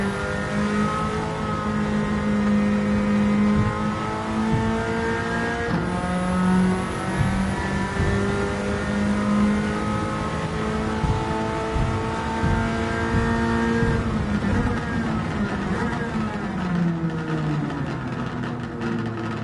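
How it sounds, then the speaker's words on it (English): A Toyota Celica GT-Four race car engine in Gran Turismo 7 revs and drones steadily, its pitch climbing and falling, with rapid crackling anti-lag pops from the exhaust running beneath it. "You hear that anti-lag popping away."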